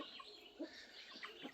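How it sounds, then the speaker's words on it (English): Meat chickens on a farm cluck softly while pecking at melon, a few short quiet clucks and scattered pecking taps against a faint background hiss. "They do love their melons and berries."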